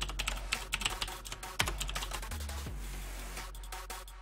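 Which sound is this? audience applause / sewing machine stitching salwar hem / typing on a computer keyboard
typing on a computer keyboard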